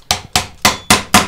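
A hammer striking a bench chisel cutting into wood, five sharp, evenly spaced knocks, close and loud with no talking.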